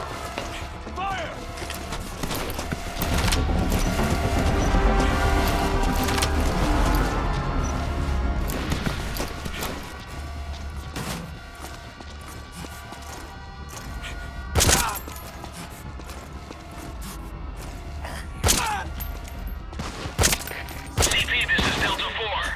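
Enemy soldiers open fire in Metal Gear Solid V, a loud sustained burst of gunfire followed by scattered sharp single shots and clatter, with brief shouted voices mixed in.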